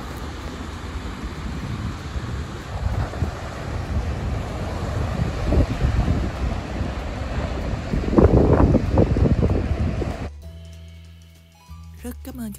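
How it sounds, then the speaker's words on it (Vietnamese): Early-morning ocean waves wash against the shore in a broad, steady rush with surging swells. Wind buffets the microphone throughout, and the sound drops off abruptly near the end. "Đó, mình nghe sóng vỗ rì rào,"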